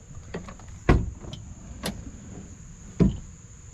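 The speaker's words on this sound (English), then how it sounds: "after 3 years of not having back doors that open, at least one opens flawlessly" The back door of a 2001 Ford F150, just fitted with a repaired latch, opens with two sharp, close latch clunks about two seconds apart, softer clicks between them, over a faint steady hum.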